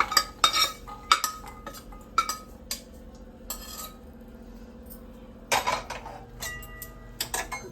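Roasted pigeon pea beans are scraped and tipped from a pan into a vessel, with repeated metallic scrapes, clinks and rattles over a low steady hum, close and fairly loud.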